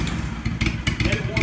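A cold Harley Davidson engine on an Aztec floor machine runs at about a quarter throttle while warming up, giving a steady, loud, low rumble with rough bursts of higher mechanical noise.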